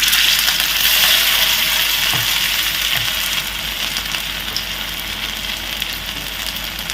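Fish frying in hot oil in a pan gives a steady, dense sizzle and crackle that carries on throughout, loud and close, with a couple of faint soft knocks in the background.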